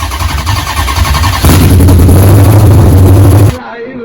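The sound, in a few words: cammed 5.7 Hemi engine first startup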